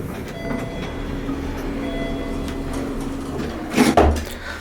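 Loud Murphy traction elevator running in the historic Brown Hotel in Louisville, a steady mechanical hum and rumble with faint whines, ending in a sudden clunk and rattle.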